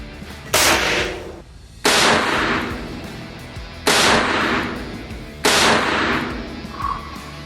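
Live-ammunition handgun shots at a shooting range: four loud, sharp reports spaced about a second apart, each ringing out with a decaying echo.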